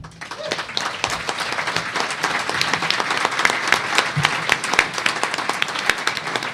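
Sustained applause from an audience for the panelists after a panel discussion, steady and moderately loud, with sharp individual claps standing out from the wash.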